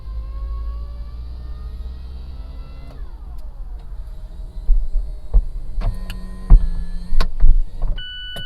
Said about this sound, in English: push this button right here down, and it'll actually bring the convertible top up